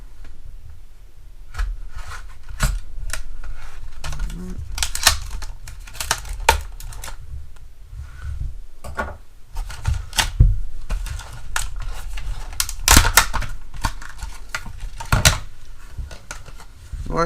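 Plastic packaging of an Armstrong 2000 mAh power bank from Harbor Freight being torn, rubbed and handled, with sharp irregular clicks, crinkles and scrapes close up, no voices.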